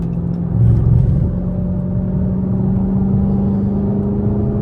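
A straight-piped Dodge Hellcat widebody while driving, its deep engine drone steady and loud from inside the car, with a brief rise in revs near the start and no talk.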